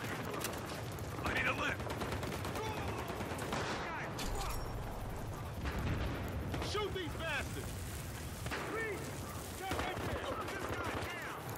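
Gunfire in Battlefield Hardline multiplayer, with rapid bursts of automatic shots and scattered single cracks repeating throughout, loud and close, mixed with explosions and game effects.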